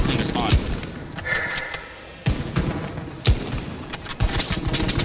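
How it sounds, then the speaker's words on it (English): Bursts of automatic suppressing fire in the World War II shooter Hell Let Loose, with sharp repeated cracks and thumps. The shots come in clusters, with a brief lull in the middle, and game chatter sits faintly underneath. "After laying down some suppressing fire"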